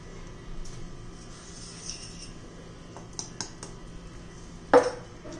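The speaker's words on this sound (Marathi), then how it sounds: "आपण मस्त हलवून घेऊया।" A spoon works besan flour and powdered sugar in a pan for besan modak, giving soft, quiet scraping and faint clinks, then one sharp metallic clank against the pan near the end, with no talk.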